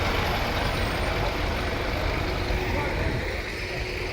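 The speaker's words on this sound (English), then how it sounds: "Another stagecoach bus coming around here" A Stagecoach bus at a vintage bus rally at Stroud College rolls past nearby with a broad, steady engine and road roar that dips slightly at the end.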